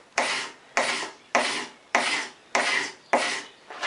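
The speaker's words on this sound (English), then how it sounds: "that's where you switch to the scraper. This is actually a paint scraper" A paint scraper pulled across a hand-carved wooden stool seat gives six evenly spaced, raspy scraping strokes, each starting sharply and fading, close up with no talking.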